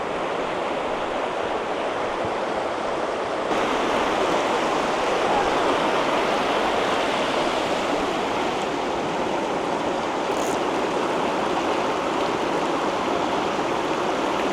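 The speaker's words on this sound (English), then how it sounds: "This is a confluence of two rivers." Two rivers meeting at a confluence in the Great Smoky Mountains, a loud, steady broadband rush of flowing water close by, continuous and unbroken with no voices.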